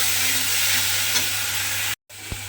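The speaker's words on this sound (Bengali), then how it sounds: "সেই পেঁয়াজ বাটাটা আমি তেলের মধ্যে দিয়ে দিলাম। দিয়ে এবারে একটু পেঁয়াজ বাটাটাকে ভাজা ভাজা মতো করে নেব" Onion paste frying in hot oil in a pan for a pomfret fish curry: a loud, steady, broadband sizzle close by, briefly cut to silence near the end, then a faint clink.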